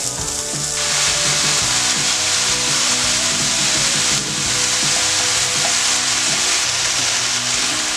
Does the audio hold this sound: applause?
no